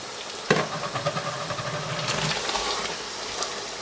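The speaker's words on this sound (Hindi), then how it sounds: "चिकन को अच्छी तरह इस मसाले के साथ में हाई फ्लेम पर ज़रा थोड़ा सा यहाँ पे फ्राई करेंगे" Chicken frying in masala over a high flame, a steady soft sizzle and hiss with occasional stirring scrapes, close and continuous without talk.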